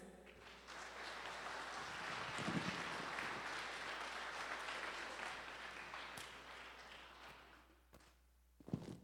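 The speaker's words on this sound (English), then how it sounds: "And let's clap for the juniors." An audience at a school spring concert applauds for the juniors, a steady wash of clapping from a crowd in a hall that swells, holds for several seconds, then thins out to a few scattered claps.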